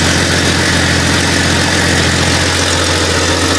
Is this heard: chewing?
no